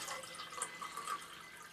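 Water poured from a pint glass into a Makita cordless coffee maker's reservoir, a quiet, steady trickle and splash lasting under two seconds with no talk over it.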